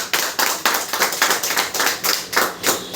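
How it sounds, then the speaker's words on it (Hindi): An audience at a seminar in Burari, Delhi claps in a quick, fairly rhythmic burst of separate sharp hand claps, close and clear, with no talking over it. "तो इनके लिए भी जोरदार तालियां होनी चाहिए।"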